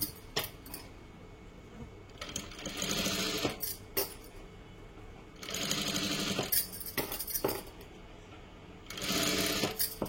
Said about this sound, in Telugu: ఈ గోట్ క్లాత్ కు ఈ జైట్ పీస్ క్లాత్ కు మధ్యలో ఒక దారం మాదిరిగా కుట్టు అనేది ఒక గ్యాప్ కాని వస్తుంది కదా, ఆ గ్యాప్ లోపలనే మనం కుట్టు అనేది వేసుకోవాలి